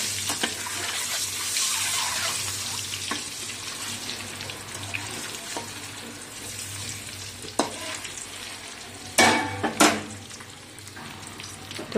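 Eggs with a little salt fry in hot oil, giving a continuous soft sizzle with a few sharp utensil clacks toward the end, close by with no talk.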